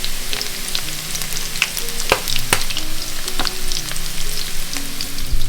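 Garlic, ginger and turmeric powder frying in a very heavy pan for Burmese nan gyi thoke noodles, giving a steady close sizzle broken by a few sharp stirring clacks, with no talking.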